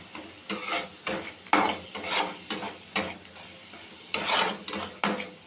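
Chili powder and boiled carrot being sautéed in a pan for a Tamil carrot poriyal, with repeated spoon stirring and scraping against the metal pan over a soft frying sizzle, close and moderately loud, no talking.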